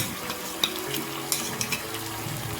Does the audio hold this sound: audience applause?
no